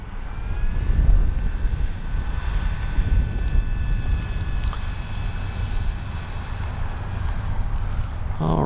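An Avios Super Tucano radio-controlled model plane taxies on pavement, its electric motor droning steadily and fairly loud with a high whine throughout, alongside wind rumble close to the microphone.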